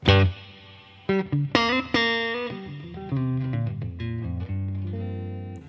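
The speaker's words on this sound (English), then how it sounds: "the Eventide H9, which is set to a hall reverb" Electric guitar through an Eventide H9 set to hall reverb with a long tail, playing a few distorted chords and notes, each trailing into long, spacious echoes and a lingering reverb tail.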